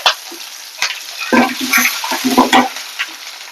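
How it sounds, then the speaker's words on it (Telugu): Onions and bay leaves go into hot oil for a banana flower fry, with a burst of loud bubbling sizzle, crackle and spatter, then some stirring scrapes. "ఇక రెండు బిర్యానీ ఆకులు వేసుకున్నా ఇక ఉల్లిపాయలు వేసుకున్నా"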